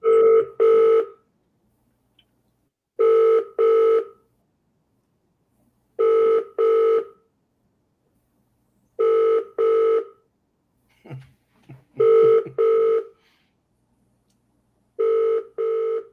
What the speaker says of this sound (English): You can tell it's the UK from the dial tone.